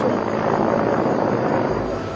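A helicopter ferrying tourists between Aguascalientes and Ollantaytambo in Peru gives a loud, steady rotor and engine drone that holds evenly throughout, with no talking.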